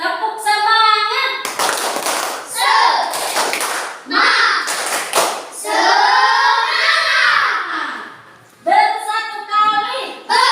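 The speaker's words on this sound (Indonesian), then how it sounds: "Tepuk semangat." Schoolchildren in a classroom chanting and doing a rhythmic spirit clap, bursts of sharp group claps in patterned sets alternating with loud children's voices chanting together.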